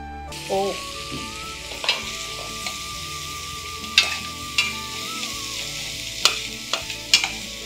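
Potato pieces sizzling steadily in a pan, with occasional sharp clinks and scrapes of a spoon stirring them, alongside a faint tonal hum.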